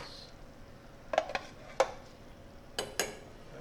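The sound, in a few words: stirring peppers and stewed tomatoes in a pot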